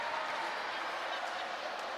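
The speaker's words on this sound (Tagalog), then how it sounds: "Naririnig mo yung crowd, no?" Steady crowd roar from spectators at a Delta Cup 2024 basketball game, Bayung Porac against Apalit, filling the arena continuously with no breaks or peaks.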